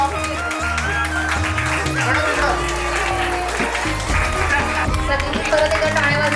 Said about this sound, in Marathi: शिवन्या जोरदार टाळा वाजवा शिवन्यासाठी